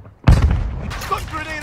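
A grenade explodes in Call of Duty Mobile: one sudden heavy boom that rolls into a rumbling decay, with faint game sounds trailing after.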